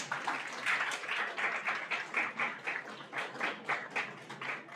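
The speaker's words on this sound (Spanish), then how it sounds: "Démosle un fuerte aplauso, por favor." Steady applause from a crowd, rapid clapping that swells and dips in waves, fairly loud and continuous with no talking.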